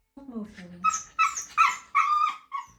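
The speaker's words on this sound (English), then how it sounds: "relatively quiet except for their occasional Shiba scream" Shiba Inu dog scream, a close series of high, strained yelping cries in short bursts, rising from a whining start into loud piercing shrieks.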